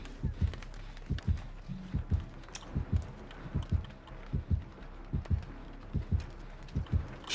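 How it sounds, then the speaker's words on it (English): A thumping heartbeat from the Dead by Daylight survival horror game pulses in steady double beats, low and heavy, repeating evenly for several seconds with faint background game ambience underneath. "Heartbeat, great."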